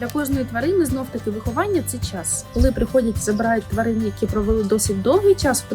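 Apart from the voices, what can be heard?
No everyday noises stand out.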